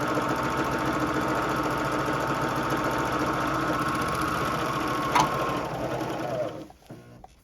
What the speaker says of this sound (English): I'm going to sew all 3 of my raw edges and just clean those up.